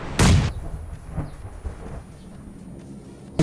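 A grenade explodes in PUBG Mobile with a single loud, booming blast right at the start that tails off into a low rumble, followed by faint scattered sounds.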